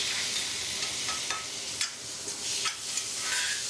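Tomatoes go into well-softened frying onions in a pan for a vegetable curry, a constant close sizzle with soft intermittent stirring scrapes.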